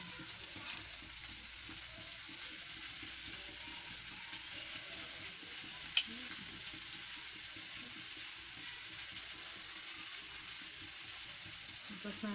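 Chopped onions and ginger frying in oil for aloo cheese samosa filling, stirred steadily: a continuous soft sizzle with faint scraping and clicking of the spoon, one sharp tap midway, no voices.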